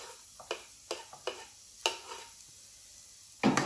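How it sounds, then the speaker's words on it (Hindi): Kaleji (liver) frying with capsicum in a pan, giving a few sharp scraping stirs spaced through the clip over a soft background sizzle, ending in a louder burst of sizzle, with no talking. "बस एक मिनट हम इनको और फ्राई करेंगे"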